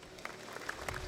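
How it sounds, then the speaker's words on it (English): Applause from a crowd at a keirin cycling race at Valley Preferred Cycling Center, greeting riders back on their feet; steady, fairly faint clapping from a distance throughout. "they get a great round of applause"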